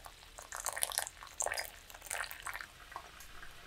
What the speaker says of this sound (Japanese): ポタポタという音が心地よい。